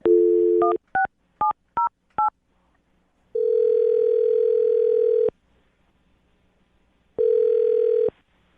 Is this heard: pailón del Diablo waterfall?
no